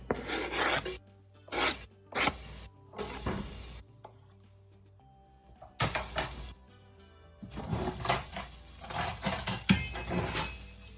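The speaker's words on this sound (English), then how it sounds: "go ahead and stir up the garlic" Chopped garlic stirred in oil in a pot, heard as repeated scraping and rubbing strokes of a utensil against the pot, close and fairly quiet, with brief pauses between bursts and no talking.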